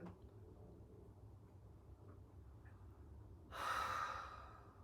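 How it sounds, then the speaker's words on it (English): A single long, breathy exhale rises suddenly out of a quiet background near the end, close and airy, then fades slowly. "And you hear me breathing."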